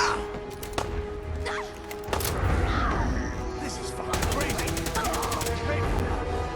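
Laser weapons fire in the game Fallout 4 as rapid bursts of zapping shots and impacts amid combat noise, loud and close.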